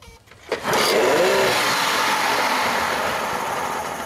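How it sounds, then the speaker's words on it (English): A Raider Model 50 outboard engine, just dewatered, catches after a brief quiet pause, then settles into a loud, steady running drone with a short rising whine as it revs up. "Start the engine."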